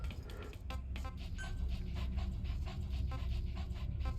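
D-Dog, a canine companion in the video game Metal Gear Solid V: The Phantom Pain, panting quickly and rhythmically, close and steady over faint game ambience.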